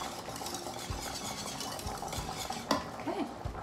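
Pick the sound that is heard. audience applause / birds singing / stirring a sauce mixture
stirring a sauce mixture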